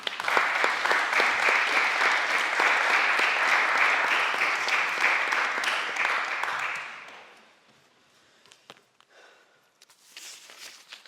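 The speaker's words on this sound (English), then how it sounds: "Everyone, please give Shahzen a warm welcome and round of applause." Audience applause welcoming a speaker at a Durham Union debating chamber, a loud sustained round of clapping for about seven seconds that fades out, followed by quiet room noise and a few scattered sounds.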